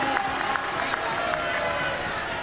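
A large gathering at a Hindu religious assembly during a Sanatan unity march claps loudly, a dense, steady wash of applause with crowd noise throughout.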